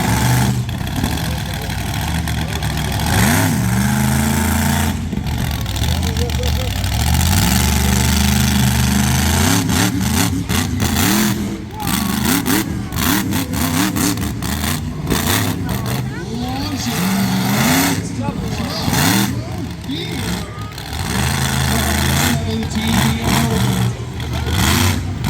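Monster truck engine at a crush car track during a Sussex Fair event, revving loudly with repeated rising and falling surges over a constant rumble, with someone speaking over it.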